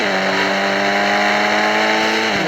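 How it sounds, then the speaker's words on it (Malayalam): A Mahindra Thar's engine revs with a loud, sustained drone at a held pitch, dropping off sharply at the very end. "താറെടുത്തുകൊണ്ട് നമ്മുടെ ബീച്ച് സൈഡിലോട്ട് പോകാം"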